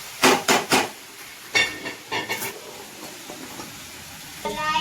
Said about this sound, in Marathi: आता मी वरणाची फोडणी करून घेणार आहे